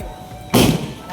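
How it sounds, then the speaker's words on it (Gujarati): A single sharp, loud blast from a cheap homemade desi carbide gun bursts out after a moment of quiet and decays over about a quarter second. "આવા મિત્રો એક ધડાકો આપણે પણ કરીએ"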